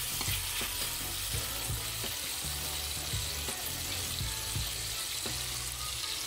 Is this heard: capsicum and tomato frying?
yes